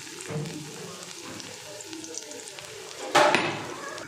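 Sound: ginger-garlic paste frying in oil

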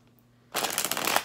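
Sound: shuffling tarot cards

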